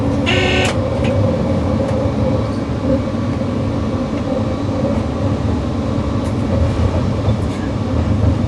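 A train pulls away at a departure, its steady low rumble and rolling rail noise filling the scene at close range throughout, with a brief higher screech near the start.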